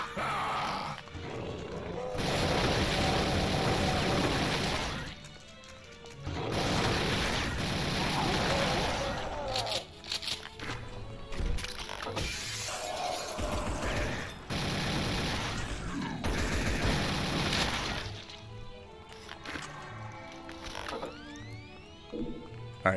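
Enemy gunfire in Brutal Doom crackles in dense, repeated mechanical bursts, loud and near, broken by short pauses, with occasional faint voice reactions mixed in.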